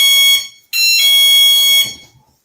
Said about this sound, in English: It's my mailbox alarm. Harbor Freight driveway alarm.